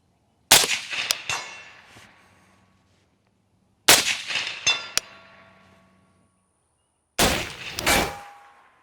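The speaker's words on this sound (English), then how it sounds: "We're just shooting torso-sized steel and using the suppressor here" A suppressed Sig Sauer MCX Spear rifle fires at torso-sized steel targets outdoors, giving three well-spaced shots. Each is a sharp crack followed by a metallic ring that fades, heard at moderate distance with no talk.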